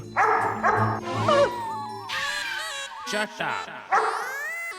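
A stolen dog gives several short barks and yips between lines of Hindi dialogue from a comedy scene, the barks near and mixed in with the talk.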